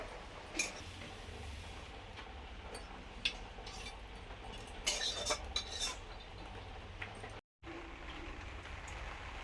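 A fork clinks and scrapes against dishes in a home kitchen, with scattered light metallic taps and rattles at close range over a quiet background, broken by a brief silence near the end.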